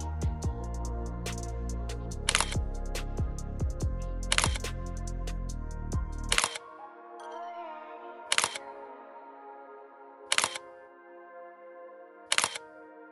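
A Vivo V40 phone camera fires shutter clicks about every two seconds, six short sharp snaps in all. The first few play over background music, and the later ones sound alone against near silence.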